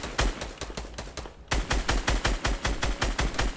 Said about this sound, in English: Yeah, I shot him out.